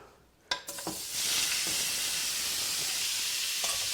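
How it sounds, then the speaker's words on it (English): Shrimp dropped onto a hot fire, a few sharp clunks followed by a loud, sustained close sizzle that hisses steadily to the end. "We're going to go ahead and cook the shrimp."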